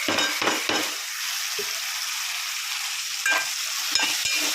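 Onion, green chilli and tomato sizzling in the same oil used for frying salted fish, a steady loud hiss broken by a few sharp spoon knocks against the pan at the start and end.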